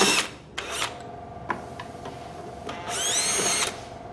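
A power drill whirs in several short bursts while removing the bottom panel screws of a machine laid on its back, with brief clicks between runs and a longer final spin.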